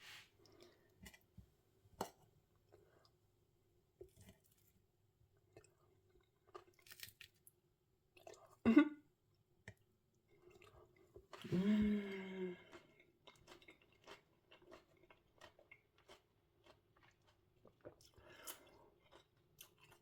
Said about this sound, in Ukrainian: салат, латук хрумтить, огірочок теж хрумтить